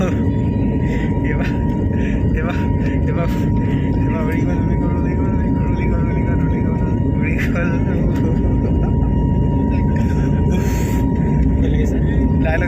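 An airplane turning in flight gives a steady, loud engine drone heard from inside, continuous beneath a person talking throughout.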